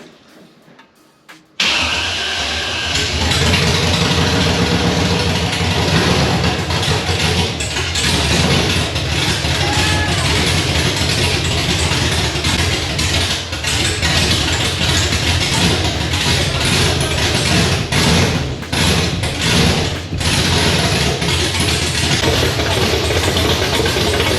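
A 1992 Pontiac Firebird engine fires for its first start after a brief quiet crank, then runs loud and close at a steady, slightly rough idle with small revs for over twenty seconds.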